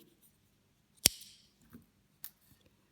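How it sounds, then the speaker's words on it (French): Scissors snip through crochet yarn threads while finishing an amigurumi sun, one crisp close cut followed by a fainter second snip, with small handling ticks in a quiet room. "Et de nouveau couper mes fils"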